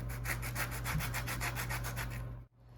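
Medium-sized oranges grated on a zester for cookie zest, heard as a close, rhythmic scraping of rind against metal, about a dozen quick even strokes, then a short pause at the end.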